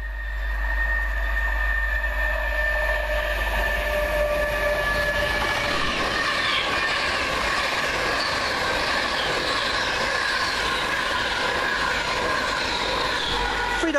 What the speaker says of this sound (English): Final fast train for us, 1 Golf 34 for Virgin Trains from London Euston to Birmingham New Street.